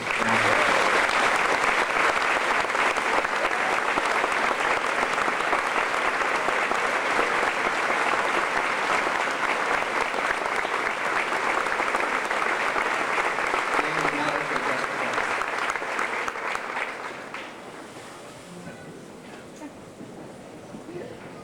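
At an 8th grade graduation ceremony the audience breaks into sustained applause, a dense, steady clapping that goes on for about seventeen seconds before dying down to a few scattered claps.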